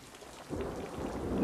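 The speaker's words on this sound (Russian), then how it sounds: "Дождь?" Rain in a 1964 Soviet film scene rises to a dense, rushing wash with a low rumble, swelling steadily louder over a second and a half with no talk.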